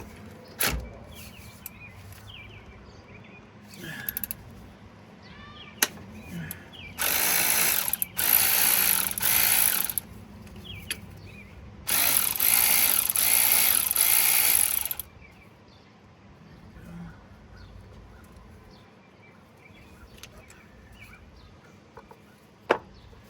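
A ratchet wrench loosens a bolt on a 6.7 Cummins diesel injection pump, giving two bursts of rapid clicking ratcheting between quieter handling taps and clunks close by.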